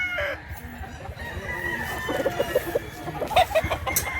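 Roosters and hens at a Mantalungon, Cebu poultry market cluck in short irregular bursts, with a crow rising among them, fairly close against a busy outdoor background, with no talk over them.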